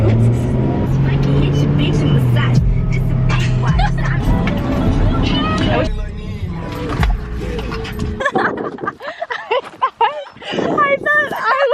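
A car being driven, with a loud, steady engine and road rumble under near continuous talking, the drone dropping away near the end as voices carry on.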